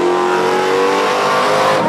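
A fire truck accelerates hard during a county championship firefighter drill, its engine roaring loud and steady throughout with a rising, revving tone and no voices on top.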